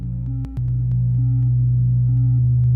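A synthesizer puts out a steady periodic sine-wave tone, clean and loud, with short stepping pitch changes and brief chirps over a continuous electronic hum.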